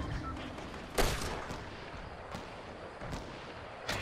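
Gunshots in a multiplayer shooter, several sharp separate cracks spaced a second or so apart, one loud and near, the others fainter and distant, with no one speaking.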